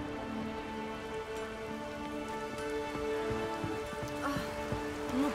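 Steady rain patters on a surface in the video game The Witcher 3: Wild Hunt, a constant close hiss of drops with a few louder splashes, no talking.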